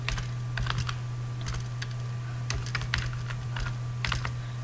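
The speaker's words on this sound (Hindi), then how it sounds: "इस तरह से आपने ये सारा टाइप कर लेना है" Typing on a computer keyboard while entering data into a Microsoft Access marks sheet: a steady run of light, rapid key clicks in small bursts over a constant low electrical hum, with no one talking.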